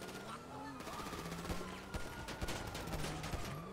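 Gunfire in GTA Online: a rapid volley of shots crackling in irregular bursts, fairly distant and thin, under a busy mix of game sounds.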